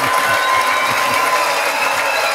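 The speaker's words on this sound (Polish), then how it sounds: "Dziki robi oklaski" A small group claps in a lively, continuous patter, close and fairly loud, steady throughout with no pauses.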